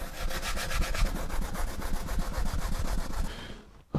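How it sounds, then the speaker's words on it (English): Steady back-and-forth hand sanding of a concrete sink insert in quick, regular strokes, close and continuous, stopping just before the end. "Okay, so that's the sanding done."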